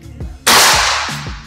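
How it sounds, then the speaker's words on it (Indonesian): A single sharp crack from a Ghost Warrior Regulator air rifle firing a Barakuda Match pellet, close and loud with a brief hissing tail, preceded by soft voice murmurs. "Kita akan coba untuk tembakan yang paling pertama kayak gini."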